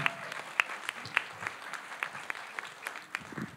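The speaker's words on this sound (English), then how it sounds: "Give a warm, warm round of applause for Mr." An audience at a women veterans seminar applauds a speaker being welcomed to the stage, a steady patter of many hands clapping at moderate volume with a few sharper individual claps standing out.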